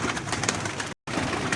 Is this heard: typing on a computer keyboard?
no